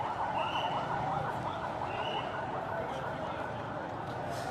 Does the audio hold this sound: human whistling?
no